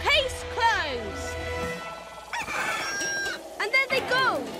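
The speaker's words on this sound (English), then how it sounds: "We're chasing down some chickens." Cartoon chickens cluck and a rooster crows in quick animated bursts, with character voices talking over them.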